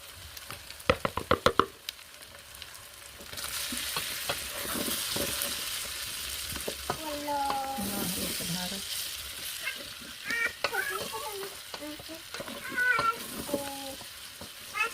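Kabsa spices such as cumin, cinnamon, turmeric, cardamom, cloves, black pepper and coriander fry in a pan with a steady sizzle and stirring scrapes, while a cat meows several times nearby.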